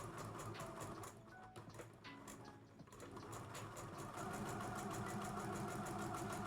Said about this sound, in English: So then I'm going to stitch.